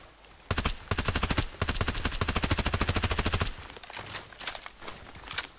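Rapid automatic gunfire in the shooter game Contract Wars on the Lighthouse map, two long sustained bursts followed by a few shorter shots, loud and close with no talking.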